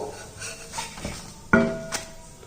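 A palak (spinach) dosa lifted off the pan onto a plate, with a light scrape followed by one sharp metallic clink and a softer tap, close by and without talk.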